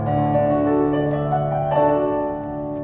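A keyboard set to a piano sound plays a few sustained, ringing notes and chords, clear and close, fading slightly toward the end.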